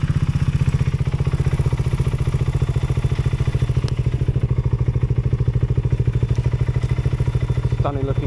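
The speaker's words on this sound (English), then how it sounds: "let's start her up. BSA 650 single," A BSA 650 Goldstar single-cylinder motorcycle idles with a steady, rapid loping thump, loud and close throughout, with a faint mechanical clatter near the end.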